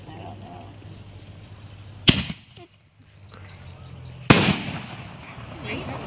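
Fourth of July fireworks explode outdoors in two sharp, loud bangs about two seconds apart, each trailing into a crackling rumble, over steady insect chirping at night.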